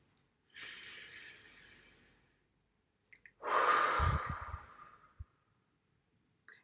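Slow deep breathing, close and quiet: one long airy inhale, a pause, then a longer, fuller exhale with a slight rasp, with no talking.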